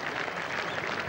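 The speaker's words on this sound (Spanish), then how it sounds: "Aplauden las dos tribunas" Crowds in the stands at a polo final applaud, a steady, even wash of clapping heard from a distance, with no voices over it.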